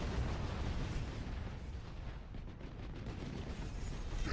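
A transport ship explodes in the space strategy game Battlefleet Gothic: Armada with a sustained, loud, rumbling blast that holds dense low booms and crackle throughout and then fades slightly midway.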